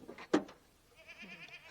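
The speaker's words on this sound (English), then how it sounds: "The goats see a bucket, so they think they got food coming." One sharp bleat from goats gathered close by a bucket on a farm, followed by quieter rustling and faint background sounds.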